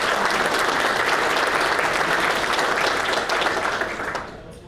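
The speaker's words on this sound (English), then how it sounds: "Let's give them a round of applause." Steady, dense applause from an audience at a general membership meeting, sustained for several seconds before tapering off at the end.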